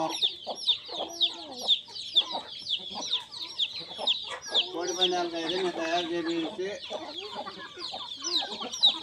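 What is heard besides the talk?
chickens clucking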